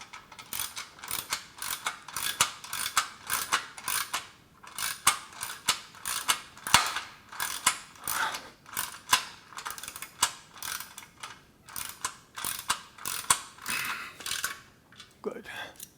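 A ratchet wrench clicks in fast, repeated bursts while snugging 3/8 inch coarse-thread bolts on a Body Solid EXM3000 gym machine's tubing. The rhythmic ratcheting runs close and steady throughout.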